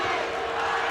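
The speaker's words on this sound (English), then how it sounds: "An ISU chant going up from the crowd here" Iowa State fans chant from the stands at a 2005 NCAA basketball game at Colorado, a dense, steady arena crowd roar filling the brief moment.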